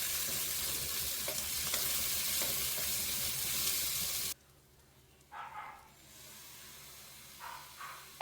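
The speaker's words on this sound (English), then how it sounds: "stir in the ginger garlic paste and let it cook until the raw smell fades" Ginger garlic paste frying in a pan for chicken chukka, a loud, dense sizzle for about four seconds that cuts off abruptly, followed by quieter intermittent scraping and stirring sounds.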